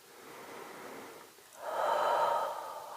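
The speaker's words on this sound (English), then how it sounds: "We'll take in a nice deep breath." Slow, deep breaths drawn in during a calm yoga stretch: a long airy inhale, a brief pause, then a louder, fuller breath through the nose, heard close with no talking.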